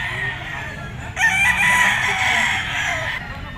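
A fighting rooster at the Grotto pet market crows loudly and close by in one long, strained call. Steady market bustle and faint clucking continue underneath.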